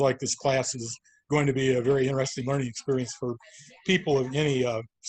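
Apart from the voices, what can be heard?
No everyday noises stand out.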